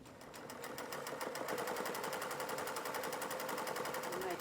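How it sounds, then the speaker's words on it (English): A sewing machine top stitching close to a fabric edge, a fast, steady mechanical rattle of rapid even needle strokes running continuously and fairly faint. "I'll do a top stitch round very close to the edge"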